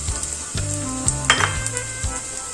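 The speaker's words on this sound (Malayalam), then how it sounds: "ഇനി നമുക്ക് വലിയൊരു സവാള അരിഞ്ഞെടുത്തതാണ് അത് ചേർത്ത് കൊടുക്കും" Chopped large onion hits hot oil and sizzles loudly and evenly, with metallic pan knocks and stirring scrapes through the short stretch.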